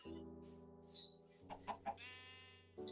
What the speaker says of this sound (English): Oh, some chickens.